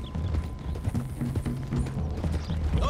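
Horses' hooves in Red Dead Redemption 2 clatter in a quick, steady rhythm, loud and close, with a low rumble of movement underneath and almost no talk.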